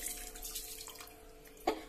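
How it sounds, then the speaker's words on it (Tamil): Drained water is poured into a pan of fenugreek greens while cooking, a faint trickle and gurgle of liquid that ends in a short, sharper splash near the finish, with no talk. "அந்த தண்ணியை எடுத்து இதுலயே ஊத்தி லைட்டா கொதிக்க விடுங்க"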